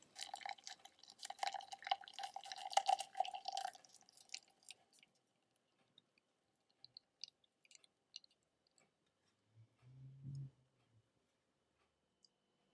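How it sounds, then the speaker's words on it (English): Nettle cake mixture pushed through a fine mesh sieve with a spatula gives sparse faint wet drips and small squishes after an earlier busier patch of scraping, with a soft low thud near the end. "So you pour this through the sieve now with a spatula"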